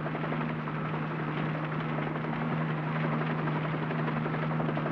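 A helicopter flying over a smoky wildfire area gives a loud, continuous rotor chop and droning hum, steady and close throughout with no speech.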